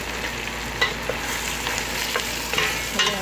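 Chicken frying in a pan for the Arabic dish maglubah sizzles steadily up close, while a utensil stirs it with soft scraping taps.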